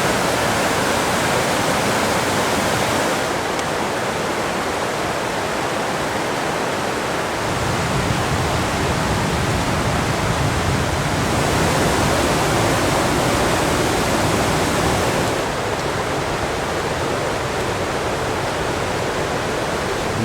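A waterfall in Great Smoky Mountains National Park roars steadily and loudly, a dense continuous rush of falling water that barely changes from start to end, with no voices.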